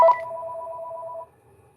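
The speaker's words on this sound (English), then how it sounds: "somebody just rang" A phone rings with an incoming call, a single short electronic tone lasting just over a second, clear and fairly close in an otherwise quiet room.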